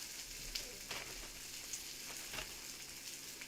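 Peppers and onions frying in a pan give a faint, continuous sizzle with a few soft stirring clicks, heard alone and fairly distant.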